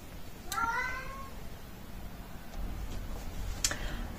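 A cat meows twice, a drawn-out mew early and a shorter one later, over a steady low background hum with a faint tick or two.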